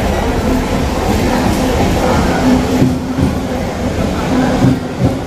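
An Asansol to Bardhaman MEMU train pulls into a station platform with a loud, steady rumble of wheels and carriages that swells slightly as it nears, alone without talk.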